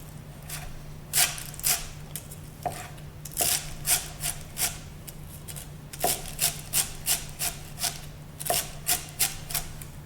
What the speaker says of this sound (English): nice and finely chopped